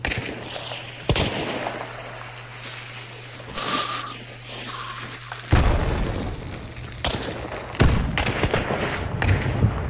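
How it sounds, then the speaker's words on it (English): A grenade blast in a multiplayer shooter: a sudden low boom near the middle, followed by more bursts and pops, with steady game rumble underneath and occasional players talking. "There's another grenade, though."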